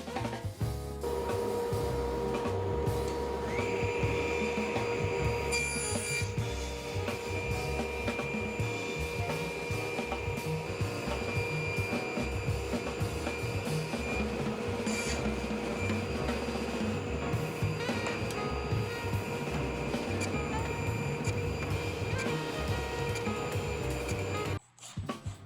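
Table saw running steadily through a crosscut sled pass, trimming the pointed ends of plywood strips, a loud continuous whine and hum with a faint tonal ring, holding for most of the stretch before cutting off abruptly near the end.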